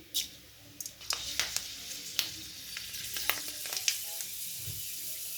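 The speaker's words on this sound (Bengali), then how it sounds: "কড়াইতে আমি দিয়ে দিচ্ছি মেথি।" Fenugreek greens hit hot oil in a wok that has just fried lentil badi, giving a bright crackling sizzle with sharp spits and pops over about five seconds, close and steady.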